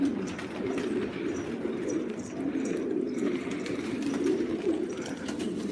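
A large flock of pigeons in a loft in Osmaniye coo continuously in a low, rolling murmur, steady and close, with no talking.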